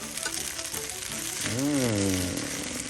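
Trader Joe's vegetable fried rice with pork belly sizzles steadily in a pan, close and loud, while a voice briefly sings or hums over the frying near the end.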